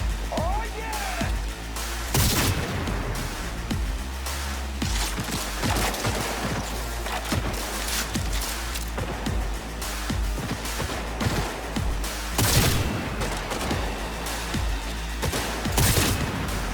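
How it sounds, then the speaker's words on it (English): Rapid bursts of gunfire in the video game Cyberpunk 2077, dense and continuous with sharp cracks and heavy impacts layered over someone talking throughout. "That guy is shooting at nobody."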